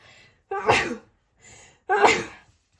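Two loud sneezes close by, each a sharp explosive burst, separated by a brief pause with a faint breath between them.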